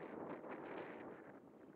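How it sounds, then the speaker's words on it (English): Steady wind rushes across a microphone at an outdoor RC plane flying field, a continuous broadband buffeting with no gaps, fairly loud and close, with no voices. "It is pretty windy today."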